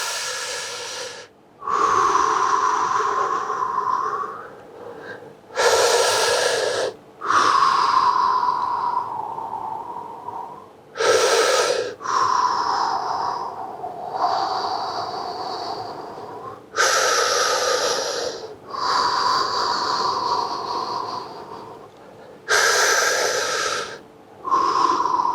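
Slow, deep breaths drawn in and pushed out during a massage of the inner pelvis, about five loud, airy inhale-exhale cycles, each separated by a short pause.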